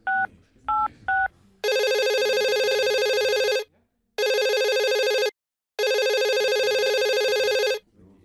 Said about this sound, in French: Le téléphone sonne, mais il ne répond pas.